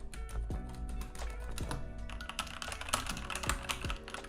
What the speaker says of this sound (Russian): я вновь взял клавиатуру на линейных свечах, а именно MX Silent Red